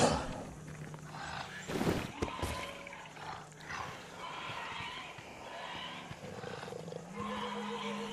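A wild animal roars on command in Robinson: The Journey VR, a loud burst near the start followed by lower growling and ambient game sounds.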